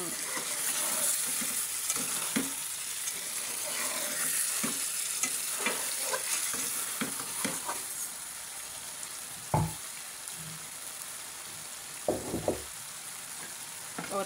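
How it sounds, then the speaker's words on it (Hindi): Whole spices, including white cumin, frying in a pan for biryani, with a steady close sizzle broken by occasional sharp stirring clatters and pops from the pan. "ये सारे मसाले डाल के अच्छी तरह इसको भून लेना है।"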